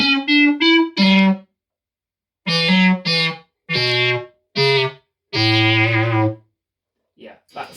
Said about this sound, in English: the red multi-stomp is the MS60B. That is on synth duty, as I did say before.